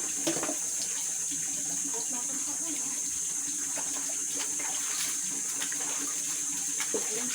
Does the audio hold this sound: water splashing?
yes